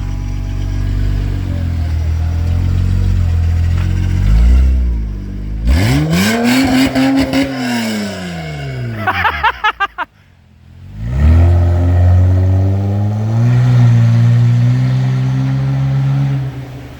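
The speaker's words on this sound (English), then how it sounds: "It's gonna make a lot of noise with engine coming out of here. No muffler." A military vehicle engine with no muffler roars and revs hard, rising and falling in pitch through loud throttle blips, dropping briefly to near silence before picking back up to a rough, close idle.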